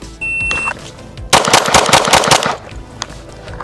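Rapid bursts of handgun fire from an X Macro pistol on a shooting course, loud and close, a quick string of shots packed into about a second, then scattered fainter cracks and a few short beeps earlier on.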